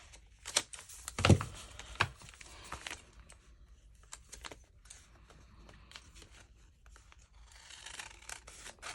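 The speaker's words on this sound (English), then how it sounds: "I'll just take my scissors" A few sharp snips and crisp rustles of scissors cutting paper, spaced irregularly, close up, with quieter handling noises between.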